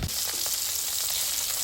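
Egg-coated eggplant fritters fry in a covered pan, a steady close sizzle of hot oil with a few faint pops throughout and no talk.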